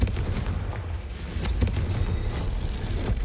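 Confringo fire spell cast in the Hogwarts Legacy video game, a loud booming blast burst over dense, continuous battle noise with sharp impacts scattered throughout.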